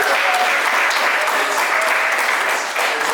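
A crowd applauding steadily, dense clapping that fills the whole stretch at a constant level.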